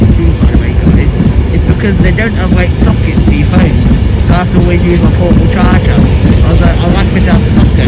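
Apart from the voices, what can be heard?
Class 352 passenger train at the station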